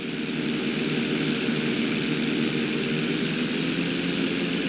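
A stunt plane's propeller engine drones steadily at flight school in Grand Theft Auto V, a loud, continuous buzzing roar that holds an even pitch throughout with no talking.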